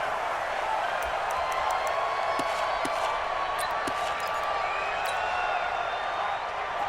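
A stadium crowd in Madden NFL 20 at a Pittsburgh Steelers versus Cincinnati Bengals game keeps up a steady roar of cheering with a few sharp accents, loud and unbroken for the whole stretch.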